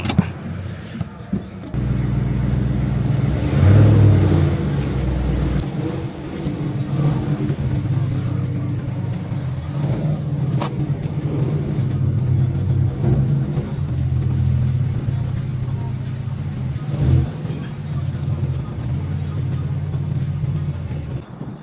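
A Dodge SRT8 car engine idles and rumbles steadily at close range as the car is moved into a shop, with a rev near the start and a low, continuous drone after.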